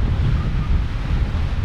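Strong wind gusting at a seaside harbour, a loud, constant roar buffeting the microphone, with no other sounds standing out.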